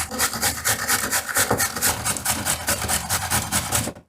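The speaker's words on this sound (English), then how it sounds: "Just grate everything." A carrot is rubbed back and forth on a kitchen grater to make thin strips for fried rice, producing a loud, close, continuous rasping scrape in quick regular strokes that stops abruptly at the end.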